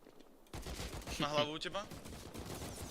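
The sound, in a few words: gunfire from video game Rust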